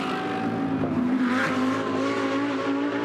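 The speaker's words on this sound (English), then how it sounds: "Lamborghini coming down the far side of the circuit at the moment, turning through turn 6, dropping down the hill" A Lamborghini race car during qualifying at the Long Beach street circuit, turning through a bend and dropping downhill, its engine a loud sustained droning roar with shifting pitch, no talk.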